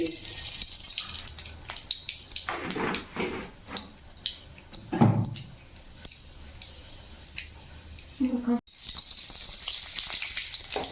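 Fenugreek seeds frying in coconut oil, a soft crackle and sizzle with scattered pops and light clicks from the pan, close and fairly quiet.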